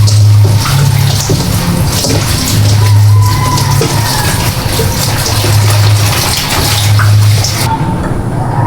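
Vegetables being washed for a salad under steady running water, a loud close gush with rhythmic splashing and low swishing pulses as the produce is rinsed.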